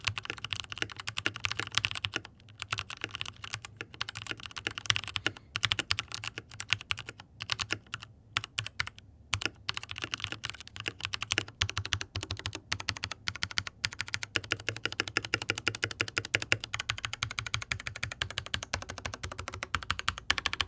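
Mechanical keyboard upgraded with silent silver switches, typed on steadily at close range: a dense, continuous patter of soft, muted keystrokes with brief pauses, no voices.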